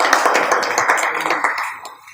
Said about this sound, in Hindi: थोड़ा सा तालियां बजाइए